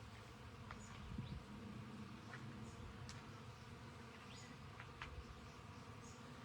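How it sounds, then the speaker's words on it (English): Bees buzz steadily among San Pedro cactus patches outdoors, a low continuous hum with occasional individual insects passing close, faint overall and with no talking. "Yes, it is the sound of bees buzzing."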